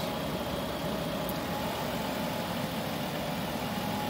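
A Dodge or Chrysler car engine with a computer-controlled alternator idles steadily and close, as a constant low rumble with faint hum and no talking, while its alternator field wire is disconnected.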